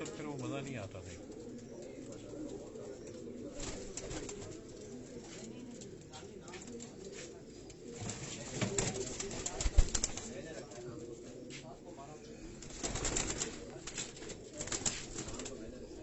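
Pigeons of the Rani breed coo on a Karachi rooftop, a soft continuous murmur with occasional wing flaps and louder bursts near the end, while someone talks over them.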